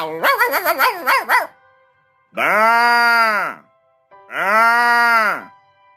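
A cartoon dog gives a quick run of loud barks, then two long drawn-out howling moans, close and alone.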